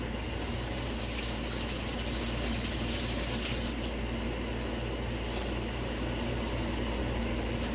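Tap water runs steadily over partly frozen oxtails being rinsed in a kitchen, a constant rushing gush with no pauses.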